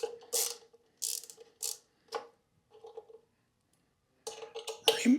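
An Allen key ratchets and turns out screws on an E-Cells Five Star electric scooter, producing short bursts of clicking and metallic ticking separated by quiet gaps, close and with no talking.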